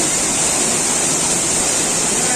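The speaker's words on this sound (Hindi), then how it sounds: "झरने के पास बहुत है" Steady, loud roar of a waterfall near the Kaveri river, continuous broadband rushing water with no pauses and no talk.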